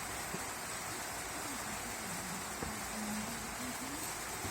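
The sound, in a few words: rain on a metal roof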